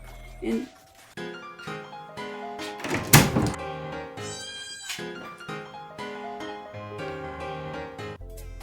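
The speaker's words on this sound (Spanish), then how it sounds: "ella es Dagmar, es mi nueva gatita." A new kitten meows several times indoors, its cries mixed with background music, a loud thump and other household knocks.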